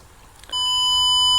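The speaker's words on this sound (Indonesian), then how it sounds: "Buzzer aktif akan berbunyi otomatis ketika sensor mendeteksi objek di depan pintu." An active buzzer on a smart doorbell with a distance sensor and LCD sounds a steady, continuous electronic beep that starts abruptly about half a second in and holds at constant pitch to the end, loud and alone.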